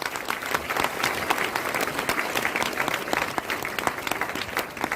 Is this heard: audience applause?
yes